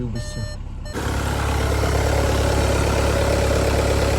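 Volkswagen Passat B8 2.0 TDI diesel engine idling, a steady, even low rumble that starts about a second in and holds loud and continuous, with faint beeping heard just before it.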